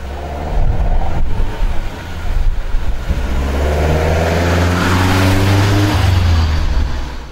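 A 1971 BMW 1602 race car at the 6 Heures de Visé, its engine loud and close, revving hard with a rising, sustained growl through most of the stretch.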